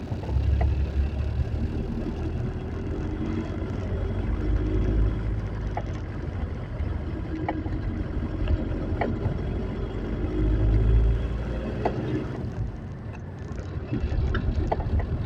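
A Chevrolet Tavera is driven in third gear, its engine a steady loud rumble with road noise and a few light ticks and rattles from inside the cabin, and no one talking.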